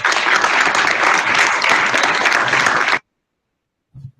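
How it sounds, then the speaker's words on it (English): Audience applause from a Ben Shapiro speech: loud, steady clapping from a crowd for about three seconds, cutting off abruptly into silence, followed by a brief voice. "like that actually deserved an applause"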